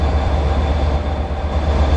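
A train pulls into a station platform at the end of a Royal Train railtour, a loud steady low rumble of rolling carriages and locomotives with a constant hum.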